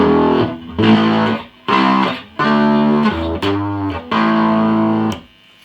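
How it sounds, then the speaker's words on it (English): Electric guitar distortion from an overdriven Fender 300 PS amplifier output with the equalizer turned up, loud sustained chords played in several separate bursts with short gaps between them. "you can get a fair amount of distortion without any of this. Just by overdriving the output, especially if we turn this equalizer up."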